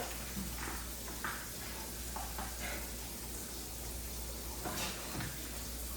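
Tap water running steadily over raw pork ribs as they are rinsed in a kitchen sink, a continuous close hiss with a few brief splashes and handling knocks.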